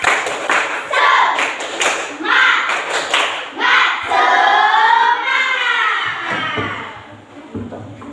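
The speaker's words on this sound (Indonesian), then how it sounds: "kita beri tepuk tangan untuk kita semua" A school class claps together after group presentations, first in sharp rhythmic bursts, then with children's voices shouting and cheering over sustained clapping, ending in a few thumps.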